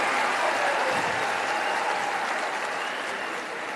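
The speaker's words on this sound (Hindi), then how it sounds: "जनाब प्रशांत किशोर जी का जोरदार तालियों के साथ स्वागत करें।" A crowd gathered to welcome Prashant Kishor bursts into sustained, dense applause that holds steady and dips slightly at the end. The clapping stays loud and even throughout, with no voices breaking through.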